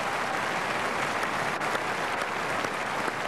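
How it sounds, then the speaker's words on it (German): A TV show studio audience breaks into dense, even applause, a loud unbroken roar of many hands clapping at once with no speech over it. "Das belohnen wir mit einem schönen Applaus."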